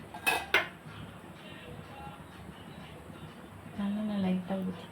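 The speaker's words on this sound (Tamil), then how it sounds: "ஆன் பண்ணதுக்கப்புறம் அதே கடாயை வச்சுக்குவோம்" A metal kadai is set on a gas stove with two sharp clinks near the start, followed by faint kitchen rustling and a low hum from the burner, with no one talking.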